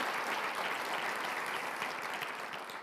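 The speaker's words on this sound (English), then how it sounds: "I think President Armacost started that clap" Dense, steady applause from a large audience at a city address, continuous and evenly sustained without breaks and with no voices over it.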